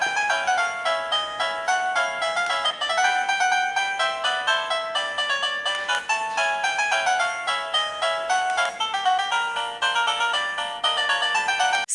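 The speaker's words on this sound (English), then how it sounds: "press the forward or backward key on the receiver to choose your favorite melody" A CallToU CC30-DB19 wireless doorbell receiver plays a bright electronic chime melody, its notes close and clear and running continuously with no voices.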